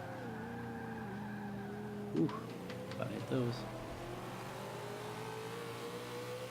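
A 1966 Ford GT40 engine in Forza 5 drones steadily at part throttle with brief revving bursts, while someone talks over it.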